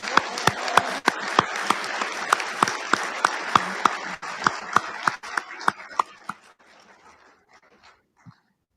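Audience applause at a military installations and logistics awards dinner: sharp individual claps over a thinner spread of clapping, tapering to a few last claps before quiet.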